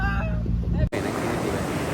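Sea waves surge in a loud, broad rush that fills the second half, right after a brief voice at the start.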